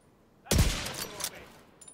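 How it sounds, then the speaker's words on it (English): A single sharp burst of gunfire in The Division 2 hits hard against near silence, its crack ringing out with a few echoing follow-up reports that fade away within a second. "Shooting these guys in the ass."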